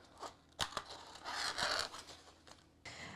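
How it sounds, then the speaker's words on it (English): Scissors or a blade cut through a thick vinyl sheet with a protective coating, giving sharp snips and a longer crinkly slicing rasp, close and quiet, without speech. "I'm just gonna cut a piece off for us to use"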